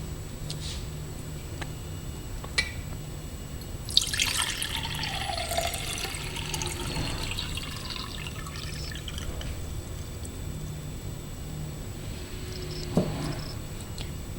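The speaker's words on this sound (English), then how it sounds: "What you need to do next is fill this dewar with 450 milliliters of room temperature" Room-temperature distilled water is poured into a dewar in a lab, a brief splashing, gurgling fill that rises and fades over a few seconds against a quiet background hum, with a couple of small clinks.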